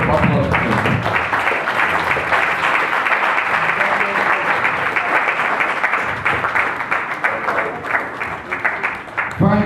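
Audience applause at a Nigerian mushroom growers, processors and marketers association event, a steady dense wash of clapping filling the whole stretch, with voices talking over it throughout.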